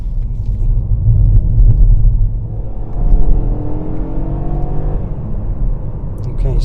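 Three-cylinder turbo engine of a 2024 BMW 1 Series, a low droning rumble with a brief rise in revs, heard from inside the car, alone without voices.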